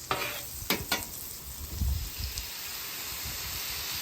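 Butter and avocado oil warming in a hot pan give a soft, steady sizzle and hiss, close and fairly quiet, with a few faint clinks near the start.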